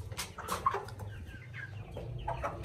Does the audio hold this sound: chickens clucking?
yes